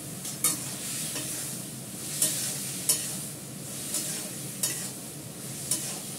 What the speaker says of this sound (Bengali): কপি থেকে জলটা কেটে যাবে, তেলটা বেরিয়ে আসবে।